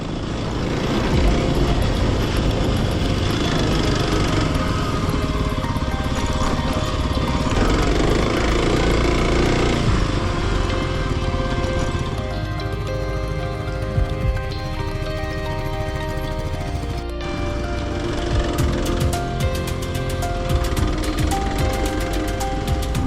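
A motorcycle riding along a rugged dirt trail in Utah canyon country, the engine droning loudly and steadily with shifting pitch, wind rumble and bumps from the rough ground, with no talking.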